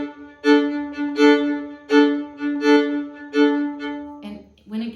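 A fiddle plays jig backup, bowing a steady run of eighth notes with regular accents that land on the strong beats, sounding close and alone.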